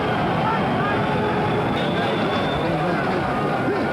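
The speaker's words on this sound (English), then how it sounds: "Listen to the crowd chanting, Bugner, Bugner." A big London fight crowd at a heavyweight boxing bout roars and chants a fighter's name, Bugner, in a constant loud wash of voices while a commentator talks over it.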